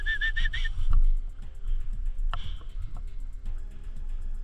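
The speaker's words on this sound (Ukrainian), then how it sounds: "Я по свистіму дав знати, що я рухаюсь до нього." A short, sharp signal whistle sounds at the start during an airsoft game, followed by quiet clicks and a low rumbling background.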